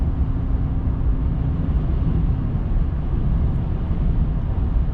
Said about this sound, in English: you get a little bit of noise from the engine